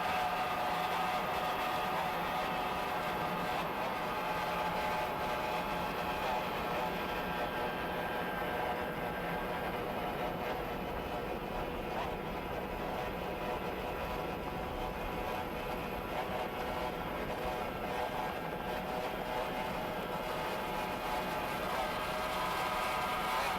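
Twin 2.5-litre EFI outboard engines on the racing powerboat Simply Red, a steady, loud, continuous motor roar with a dense mechanical drone holding at even level throughout, no voices.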